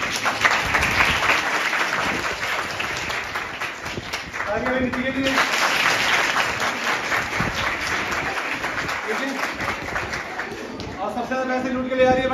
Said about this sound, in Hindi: तालियां जोर से बजती है।